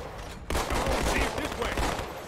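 A rapid burst of gunfire in a Halo video game, hitting a Marine, starts abruptly after a brief quiet moment and keeps crackling loudly as a dense volley.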